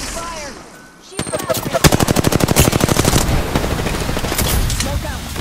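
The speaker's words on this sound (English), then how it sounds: "Listen up, I'm getting shot at!" Rapid automatic gunfire in the battle-royale video game Apex Legends bursts in after a quiet second, a dense, loud stream of shots continuing steadily to the end.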